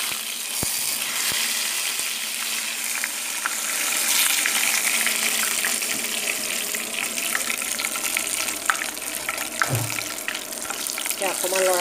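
Whole dried chillies, jaluk and bay leaves sizzle in hot oil with a steady, close hiss and scattered crackles, a few sharper pops near the end.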